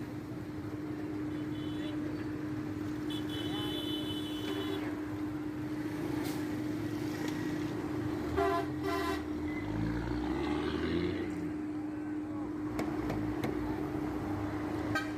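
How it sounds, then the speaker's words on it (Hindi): Fast road traffic streams past a bus stop at a busy junction in Sahiwal on the road toward Lahore. A continuous engine drone with vehicles passing close by sits under someone talking. "तो ट्रैफिक का बहाव वो आप देख सकते हैं कि किस कदर तेज़ ट्रैफिक यहाँ पे जा रही है।"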